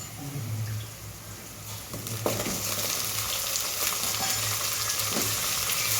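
Drumstick (moringa) pieces go into dal cooking in a pan, and a steady close sizzle and bubbling runs throughout, broken by a single clink midway. No one speaks.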